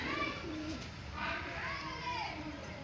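Soft cooing of a fancy pigeon sits under nearby talking voices, with a faint background murmur.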